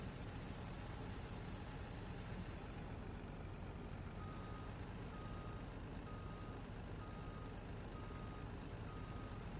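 A dump truck in the Farming Simulator game rumbles with a steady engine drone while its reversing alarm beeps at a regular pace, the beeps distinct over the constant low mechanical noise.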